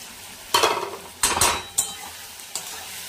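Masala with garlic paste and chilli powder sizzles in a pan. A spoon stirs and scrapes against the metal in several sharp bursts over a soft, steady frying hiss, close and clear, with no talking.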